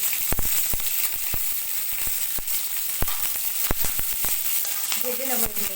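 Onions fry in hot oil, a continuous hissing sizzle punctuated by sharp, irregular pops and crackles, close and fairly quiet, with a brief tonal sound near the end.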